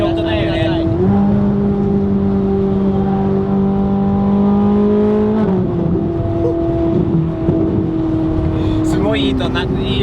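Engine of a Ferrari built in Japanese kaido racer style revving, with clear harmonic engine tones rising and holding steady before dropping back, loud and close, as people talk over it.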